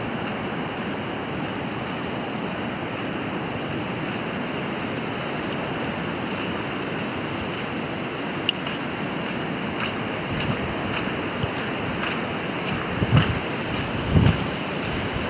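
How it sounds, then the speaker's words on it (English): Small creek gushing out of a hole in a rock beside a coastal track near State Highway, a steady broadband rush with wind buffeting the microphone and a few louder knocks near the end. "it's got a little creek gushing out"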